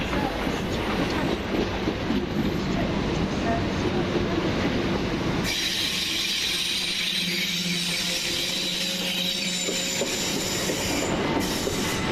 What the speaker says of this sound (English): Train now approaching platform 6 is the 1600 hours Southern